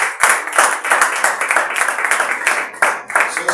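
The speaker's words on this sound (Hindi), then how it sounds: "आइए जोरदार तालियां बजा दीजिए।" A church congregation at a sermon breaks into vigorous clapping, loud, close claps that come in uneven surges with short dips between them.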